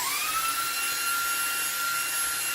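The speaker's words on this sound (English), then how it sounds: "let's see if we can get most of this off with this vac here from Anker" An Anker cordless vacuum cleaner runs continuously while cleaning an air vent, a loud, steady high-pitched whine that rises briefly as the motor spins up, close and alone without talk.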